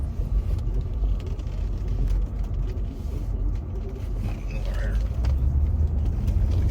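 A diesel car hauler truck drives past, a heavy low engine rumble and road noise that stays steady and loud throughout, with faint hissing brake or air sounds mixed in.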